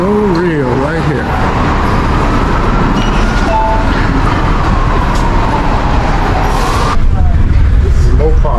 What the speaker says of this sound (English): The monorail right here.